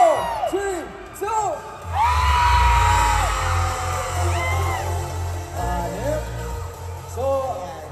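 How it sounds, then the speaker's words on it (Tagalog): Fans scream, whoop and cheer for Donny Pangilinan and Belle Mariano, a loud crowd roar that swells after a countdown and holds steadily, with shrill individual yells rising above it. "pwede ko po marinig ang sigawan nyo?"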